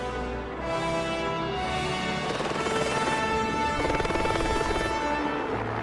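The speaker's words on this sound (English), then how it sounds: "we got very, very good at loading in and out of choppers" A helicopter ferrying a film crew to a remote shooting location in New Zealand, its steady, loud rotor throb and engine whine holding close for the whole stretch.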